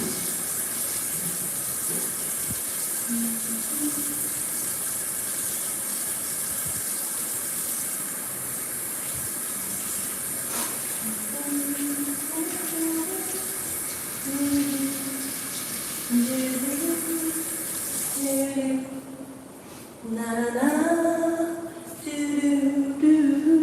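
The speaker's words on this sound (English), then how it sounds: "I'm gonna go rinse my hands." A kitchen tap runs steadily while someone rinses their hands during empanada cooking in Panama, a constant hissing stream near the microphone that cuts off toward the end, with faint background tones and voices.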